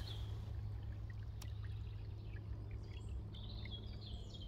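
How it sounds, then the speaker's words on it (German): A flowing stream on a forest hike makes a faint, steady trickling wash, with soft bird chirps scattered over it. "Ein fließender Fluss oder Bach."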